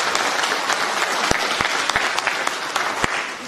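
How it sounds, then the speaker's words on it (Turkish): Audience applause at an association's general assembly in a hall, steady close clapping with a few distinct louder claps standing out, continuous from start to finish. "kendinizi kocaman bir alkışlayın"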